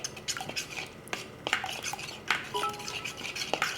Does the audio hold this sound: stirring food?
yes